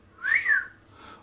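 A single person whistles a rising-then-falling wolf whistle toward a woman, two clear swooping notes close to the listener, with no talk around it.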